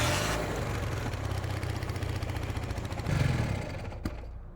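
A vintage Honda or Suzuki motorcycle engine runs close by with a rapid, clattering putter, then swells in a brief rev near the end before dropping back, with a sharp pop just after.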